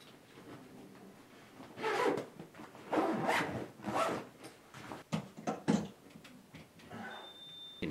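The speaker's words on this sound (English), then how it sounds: "We'll just zip this up." A Scentcrusher scent-control bag packed with clothes is zipped shut in several short, quiet zipper pulls, close by in a still room.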